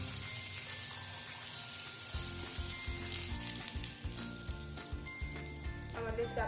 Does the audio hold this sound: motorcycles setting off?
no